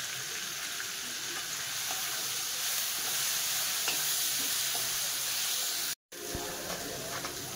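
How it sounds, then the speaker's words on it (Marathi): Potatoes fry in hot oil for masala rice, giving a constant close sizzle and hiss broken by faint stirring clicks and one brief dropout near the end. "बटाटा, एवढं आपल्याला जरा तेलामध्ये चांगलं फ्राय करून घ्यायचंय"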